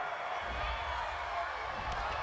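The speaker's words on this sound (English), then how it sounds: "This home crowd, they're happy with that call." Steady crowd roar from a home stadium audience in the Madden 20 football video game, a continuous broad wash of cheering that holds at a constant loud level with a voice running over it.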